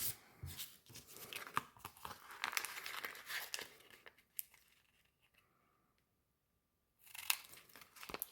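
Paper for a junk journal collage being folded and cut with scissors, close crinkling and snipping in dense bursts, then a few seconds of near silence before another sharp crinkle near the end.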